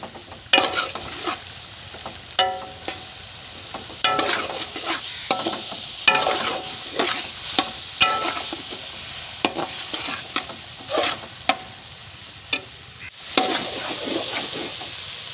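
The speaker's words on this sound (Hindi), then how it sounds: "ऑयल और मसाले में मटरों को भूनते हुए मुझे 8-10 मिनट हो गए हैं।" Green peas frying in oil and masala for a village-style matar pulao, with repeated scraping strokes of a spoon against the pan over a continuous sizzle, close and fairly loud, with no voices.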